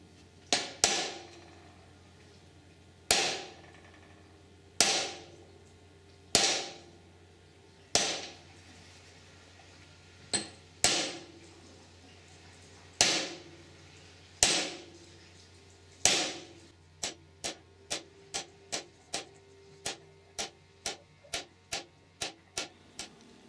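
A hammer strikes a metal pellet mill die repeatedly, slow and evenly spaced at first with ringing decays, then speeding up into a quicker run of lighter taps.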